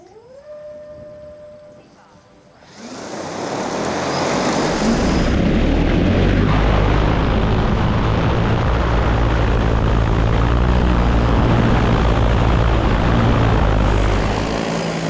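An agricultural spray drone spins up after a quiet start and then hovers loud and close, its propellers giving a steady droning whine with a low buzz beneath.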